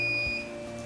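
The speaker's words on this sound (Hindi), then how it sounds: "अब ये 199 से लेके 100 के दरमियान जो है ये वाली बीप" A non-contact thermal gun beeps while taking a temperature reading of an orange: a short, clear electronic tone heard close up and alone.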